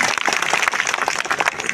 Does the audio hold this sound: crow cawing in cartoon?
no